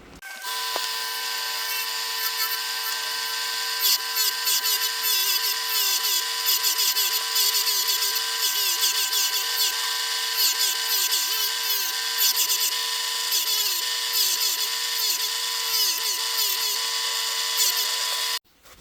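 A power sander working on a wooden catapult fork cut from a log, a steady high whine with rhythmic wavering as the tool moves across the wood, running almost nonstop before cutting off at the end.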